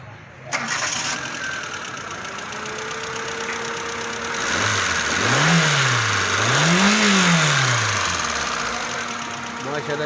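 A Suzuki Sintro car engine, freshly tuned with a new fuel pump, cranks and catches, then runs and revs in two rising-and-falling swells before settling back to idle, close up and loud.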